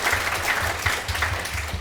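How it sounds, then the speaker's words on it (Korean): A crowd claps steadily, a dense patter of many hands applauding together in a room, with no voices over it. "박수 부탁드립니다."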